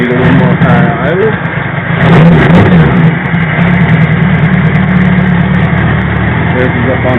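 A single-carburetor Honda GL1000 motorcycle engine runs at high idle, a loud, close, steady mechanical drone that swells briefly about a third of the way in, with faint talk mixed in.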